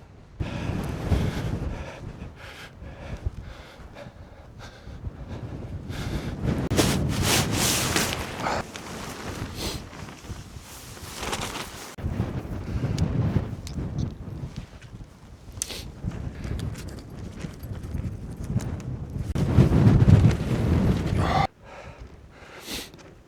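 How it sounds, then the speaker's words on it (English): Cold wind buffets the microphone on open moorland at Bleaklow in the Peak District, a constant roaring rumble with gusty surges and rustling, close and loud, no voices heard. "this wind it's not dead strong by any means, but it's freezing"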